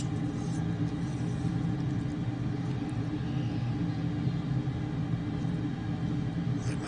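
A Darkstar jet running at full afterburner in Microsoft Flight Simulator, a steady dense low roar that holds constant throughout with no change in level.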